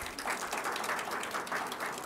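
An audience claps together through a director's speech at an MBA orientation day, a steady, dense wash of applause that carries on at an even level for the whole stretch with no voices on top.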